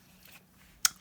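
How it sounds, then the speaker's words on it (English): A single sharp snip of scissors cutting out a paper piece for a journal embellishment, close and brief after near silence. "Now this piece, I'm just going to cut it out for now"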